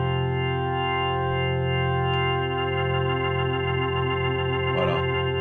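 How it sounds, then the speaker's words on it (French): Keyboard playing a sustained organ sound with Leslie-style swirl, a steady chord held loud and alone with a slight change of voicing midway. "ce qui passe bien aussi c'est un son d'orgue par exemple."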